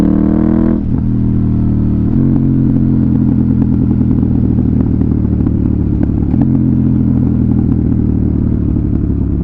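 A KTM Duke 890R motorcycle with an SC Project slip-on exhaust drops from fourth to third gear, its loud, steady engine drone stepping up in pitch with each shift and crackling over a continuous close rumble.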